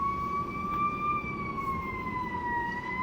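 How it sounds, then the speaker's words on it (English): An emergency vehicle siren wails outside, a steady, slowly sliding tone that carries at moderate distance over a low rumble of traffic, with no one talking. "Can you hear that siren?"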